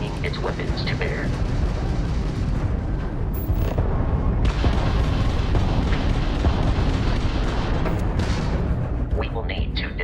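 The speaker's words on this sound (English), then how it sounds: "that's a Crimson Fleet ship bringing its weapons to bear" A Crimson Fleet ship opens fire in Starfield space combat with heavy booming blasts and rumbling bursts. The loud, dense barrage rolls on with short breaks, and voices talk over it.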